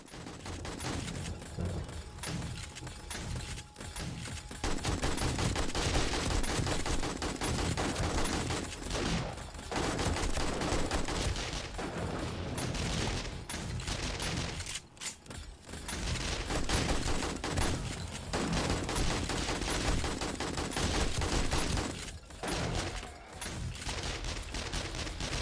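Automated turrets in the zombie survival game 7 Days to Die fire in sustained rapid bursts, a dense, continuous clatter of gunfire that fills the scene with only brief pauses.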